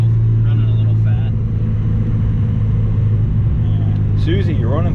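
An old car's engine idles on, running rich, with a steady low rumble throughout and a few faint voice-like chirps drifting over it near the end.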